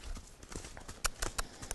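A horse's hooves clip-clop on the ground as it steps forward during groundwork training, a few irregular close thuds over faint background noise.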